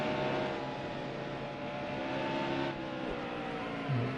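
A race car engine in a racing video game practice session at New Hampshire drones steadily and loudly, with a continuous sustained tone and a slight pitch change near the end, no voices.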